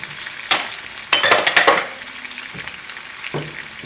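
San Marzano tomatoes drop into a pan of sizzling chicken, giving a sharp splash and a burst of crackling. Softer frying and a few stirring knocks follow.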